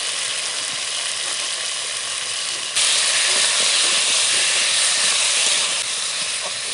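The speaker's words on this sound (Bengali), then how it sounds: "মশলার সাথে ভালো করে কষিয়ে নেব।" Taro and potatoes frying with spices in a pan for a Bengali fish curry, giving a steady, loud sizzling hiss that swells brighter midway and continues without pause.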